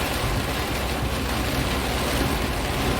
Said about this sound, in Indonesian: Kondisi cukup lebat teman-teman, cuacanya hujan.